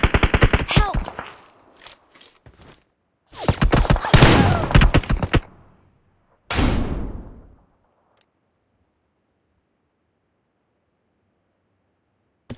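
Rapid bursts of machine-gun fire, likely from a video game, come in several loud clusters separated by short pauses, then stop, leaving near silence.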